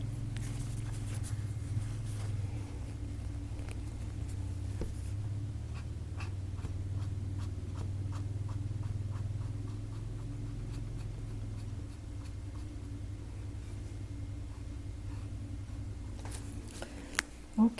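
A brush working white oil paint into a corner of a snowy cabin landscape canvas, heard as close, dry, repeated scratchy strokes over a steady low background hum, with no talking.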